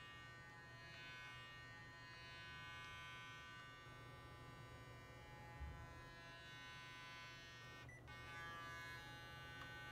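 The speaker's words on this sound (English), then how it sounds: "So it beeps every time I'm supposed to switch areas of my face." Continuous electric buzzing hum of a facial cleansing brush close up, with a brief interruption near the end where a beep may sound.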